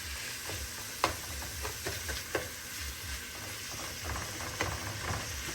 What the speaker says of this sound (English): We're gonna make sure these get nice and sauteed.